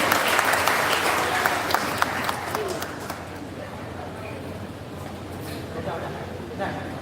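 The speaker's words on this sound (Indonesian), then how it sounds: "Tepuk tangan buat mereka yang sudah maju semua" A crowd at an Indonesian school or campus event claps loudly at first, the applause thinning and fading out over several seconds into quieter room noise.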